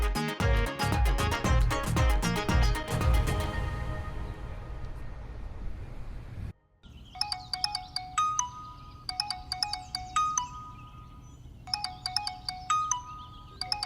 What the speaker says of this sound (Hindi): मैम के नंबर पर ये किसका फोन आ रहा है?